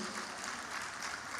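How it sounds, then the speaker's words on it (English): Audience applause for a panel at a Lagos State Records and Archives Bureau event, a steady broadband clatter of clapping throughout, moderately distant and fairly faint, with no speech over it. "a round of applause for our panelists"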